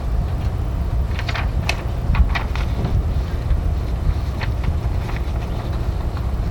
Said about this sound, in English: The wind is actually quite annoying.